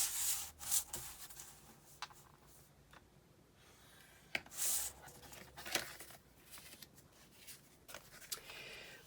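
Paper is scored for a memory box with a scoring tool, producing quiet, close rubbing and scraping strokes in irregular short bursts, with soft handling rustles between them and no talking.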